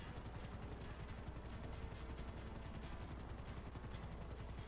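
Helicopters flying in GTA 5, a faint, steady whirring rotor chop that runs unbroken throughout, with no voices over it.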